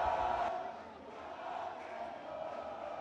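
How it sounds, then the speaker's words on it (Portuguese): Mamaô supporters cheer in the stands at Moça Bonita ground during an amateur under-17 football match. The crowd noise is a steady, distant roar that holds for the whole stretch without clear breaks. "Torcida do Mamaô em festa aqui em Moça Bonita"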